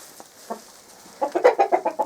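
Chickens clucking close by, a few scattered soft clucks followed by a quick run of seven loud, evenly spaced clucks in a rhythmic burst.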